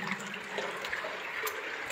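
Faint, continuous trickle of water flowing inside the Patal Bhuvaneshwar cave shrine, soft and steady with slight splashy accents, no talking.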